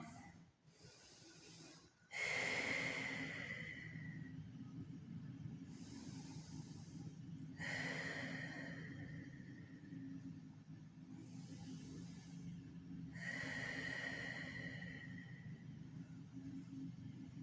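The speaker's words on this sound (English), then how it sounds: "Deep breaths in and out." Deep breathing during a yoga stretch: three long, airy breaths in and out, close and soft, spaced several seconds apart, with quiet room tone between them and no talking.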